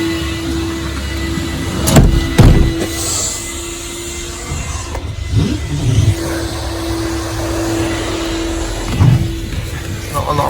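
A coin-operated car vacuum at a petrol station hums steadily while cleaning a car interior, with a constant motor whine and occasional louder bumps and suction surges, heard close.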